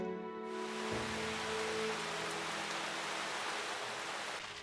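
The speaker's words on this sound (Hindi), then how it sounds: "बारिश बहुत तेज हो रही है।" Heavy rain pours in the Hindi Titipo train cartoon, a thick constant wash of noise that swells in after a few soft tones at the start and holds steady until it thins at the very end.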